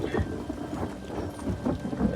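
Rain and thunder in the video game Elder Scrolls Online, a dense steady downpour with low rolling rumbles swelling and fading throughout, loud and close.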